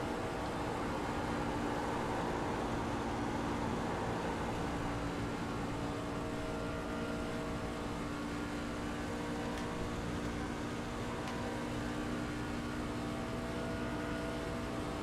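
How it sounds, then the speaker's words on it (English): The Mobil 1 Chevrolet number 29 race truck in a racing video game runs wide open into a corner, a steady loud engine drone with sustained harmonic tones and no talk. "You're going to listen to him go wide open down into the corner."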